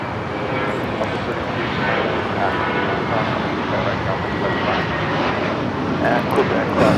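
A passenger airplane's engines roar steadily and loudly at Los Angeles LAX airport near runway 25 right, a broadband rumble holding throughout with faint radio chatter beneath.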